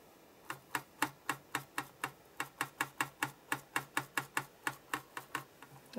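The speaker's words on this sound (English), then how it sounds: "Apologise for the clicking noise. That's just the canvas on my worktop." Acrylic painting canvas clicking against a worktop, a rapid, fairly even run of sharp close taps, about three or four per second, alone with no talk.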